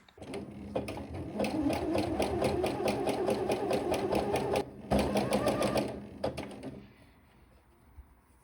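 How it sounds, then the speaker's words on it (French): A sewing machine runs a continuous zigzag stitch along a single layer of a skirt hem, steady rapid mechanical chatter for about six seconds with a brief pause, then it stops and the room falls quiet. "on va juste faire un point zigzag tout le long, un coup sur le tissu, un coup à l'extérieur du tissu"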